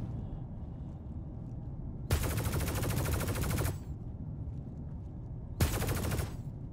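Heavy dropship cannons firing in a video game, two sustained bursts of rapid automatic fire, one long and one shorter, loud against a steady low rumble of background noise.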